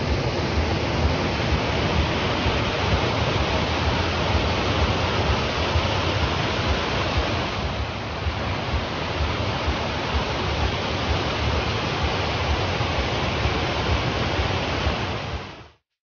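A stream at Nagcarlan Forest Resort in Laguna rushes continuously, a dense, close, even wash of flowing water that stays steady throughout before cutting off abruptly at the end.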